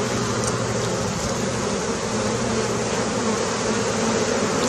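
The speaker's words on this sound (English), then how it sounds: "That's a lot of bees." Italian honey bees swarming around an opened hive during a July inspection: a dense, continuous, close buzz from many insects, steady throughout with no talking.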